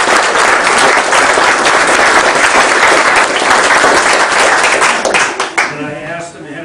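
Loud, dense applause from a crowd at a Lions Club candidates night in an IOOF hall, honoring Judy Pfluger and Betty Jenner. It holds steady for about five seconds, then fades as a voice begins.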